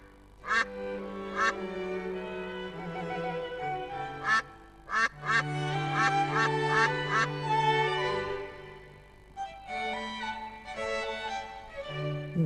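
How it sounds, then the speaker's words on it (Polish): A duck gives a series of sharp quacks, some in quick clusters and others spaced apart, close and clear over soft background music. "Tu jest kaczka."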